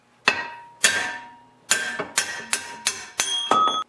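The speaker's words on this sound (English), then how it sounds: "I'm going to use my bigger punch, and it actually goes on top of the bolt" Metal hammer blows on a punch set against a seized snowblower impeller bolt, seven sharp ringing strikes, the first three spaced apart and the rest in quicker succession, close and loud with no talk.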